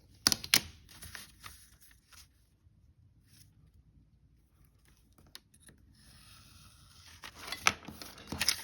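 Scissors snip through a sheet of paper to cut off a triangle for a triangular accordion book: a few sharp, close clicks at the start, a quiet stretch, then another cluster of crisp cuts near the end.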